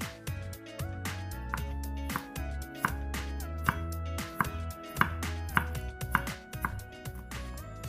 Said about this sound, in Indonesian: 4 siung bawang merah dan 4 siung bawang putih yang digeprek dan dicincang halus